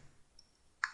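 A single crisp computer mouse click lands at the very end of a quiet moment while using Excel 2010.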